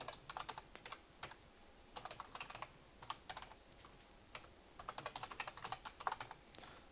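Fast bursts of keystrokes on a computer keyboard while writing programming code, clustered in quick runs with short pauses between them, close and fairly quiet with no voices.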